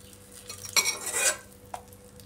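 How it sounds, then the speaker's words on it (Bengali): Metal utensils scrape and clink against a pan while fried shrimp are lifted out, one bright burst of clatter followed by a single short tap, close and alone without talking. "চিংড়ি মাছ ভাজা হয়ে এসছে, এগুলাকে এখন আমি নামিয়ে নেব"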